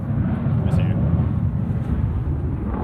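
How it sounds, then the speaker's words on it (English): Blue Angels jet aircraft roaring overhead in San Diego, a steady broad low rumble filling the background with no pauses. "the Blue Angels are starting to fly. I think they're practicing today and they start tomorrow."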